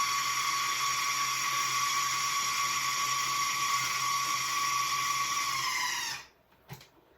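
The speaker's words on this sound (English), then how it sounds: "when we're working with the food processor, just give it a break in between and just sort of kind of scrape it down a bit" Food processor whirring through a salsa sauce with cilantro, a steady high-pitched motor whine held for about six seconds before cutting off, followed by a single short clunk, with no talk.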